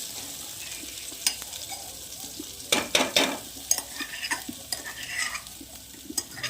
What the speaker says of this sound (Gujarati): લસણ મરચા